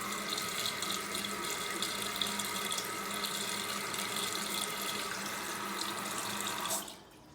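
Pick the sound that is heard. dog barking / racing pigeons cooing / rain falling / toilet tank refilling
toilet tank refilling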